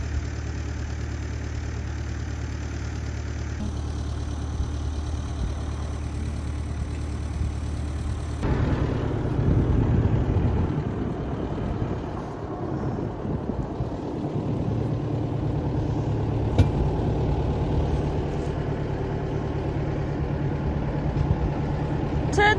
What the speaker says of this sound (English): Turn the tractor off then.